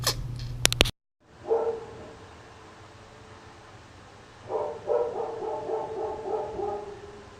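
A dog barks several times nearby, a short burst at the start, then a pause and a run of rapid barks later on.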